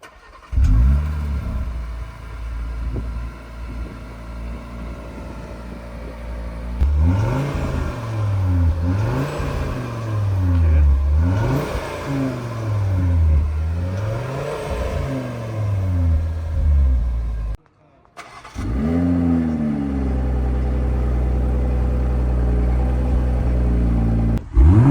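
BMW M340i six-cylinder and Audi RS3 five-cylinder engines revving one after the other, deep rumbling idle rising into repeated surging revs and falling back, a brief cut, then another engine idling and blipping loudly close by.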